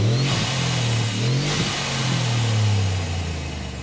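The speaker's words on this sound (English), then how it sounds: "And then we'll go with the tried and true race valve." Car engine revving hard with a race blow-off valve, loud rising and falling engine drone with a bright rushing whoosh of released air across most of it.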